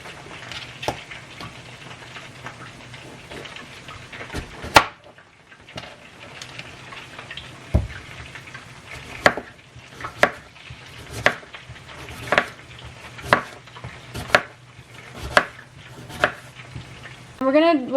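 A knife slices potatoes into thin rounds on a cutting board, sharp knocks landing in a fairly regular rhythm of roughly one per second, close and distinct over a quiet kitchen background.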